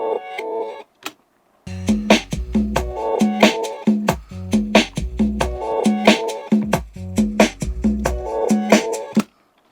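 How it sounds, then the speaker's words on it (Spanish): A chopped, reversed guitar riff plays as a rhythmic run of short swelling stabs with bright harmonic tones and a thumping low end, briefly stopping near the start before the pattern resumes loud and repeating. "el guitarrista me mandó todo el riff y yo lo que hice fue trocearlo y ponerlo en reversa"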